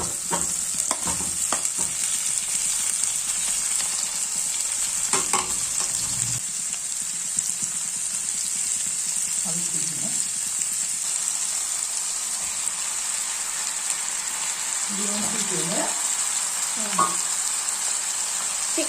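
Potatoes frying in hot oil in a pan for chicken khichuri, a steady loud sizzle throughout with intermittent scraping and clinking stirring strokes, especially near the start and end.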